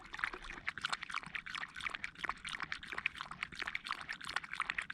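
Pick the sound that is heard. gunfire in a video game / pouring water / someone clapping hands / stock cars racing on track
pouring water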